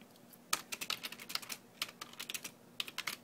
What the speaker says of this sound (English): You continue typing.